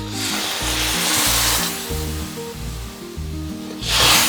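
Sizzle and scraping of a vegan ramen base being stir-fried with salt and pepper, a spatula rubbing the pan in rhythmic strokes over a continuous frying hiss, growing louder as liquid hits the pan at the end.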